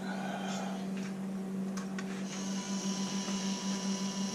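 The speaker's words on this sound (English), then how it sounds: "I really dislike these fans on this printer" Cooling fans on a 3D printer run with a steady, quiet whir and a constant hum, joined by a few faint clicks and a higher whine partway through, with no talking.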